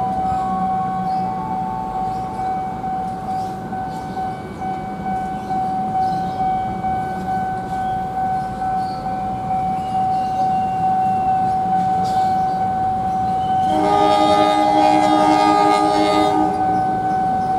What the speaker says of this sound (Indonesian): suara klakson S35-nya sudah dibunyikan, tanda kereta api Erlangga sudah akan berangkat